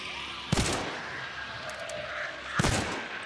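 Gunshots in the Western-themed shooter Hunt: Showdown, two loud, sharp close shots about two seconds apart, each followed by a short ringing tail over low background noise.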